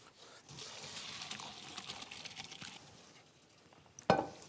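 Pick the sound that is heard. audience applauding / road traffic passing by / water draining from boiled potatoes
water draining from boiled potatoes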